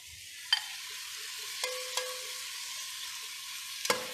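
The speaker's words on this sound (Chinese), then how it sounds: "我们就把这个排骨直接的跟它倒进去" Pork ribs tipped into a wok with garlic and fermented bean paste, a soft steady sizzle marked by a few sharp clinks of a utensil against the pan, close and without talk.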